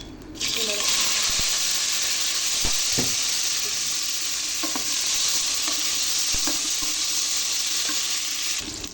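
Onions fry in a pan for a fish bhuna curry, giving a strong continuous sizzle with occasional stirring clicks and scrapes of the utensil against the pan.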